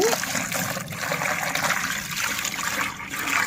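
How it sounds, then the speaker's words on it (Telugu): About a liter of water is poured into a container to mix with crystals for a homemade dishwashing liquid, a loud, continuous splashing pour heard up close without talk. "ఒక వన్ లీటర్ వాటర్ ఇందులో వేసి మిక్స్ చేయాలి"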